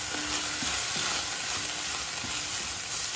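Egg bhurji being stirred and mixed in a frying pan, a steady soft sizzle with repeated scraping strokes at an even rhythm, close by and with no talking.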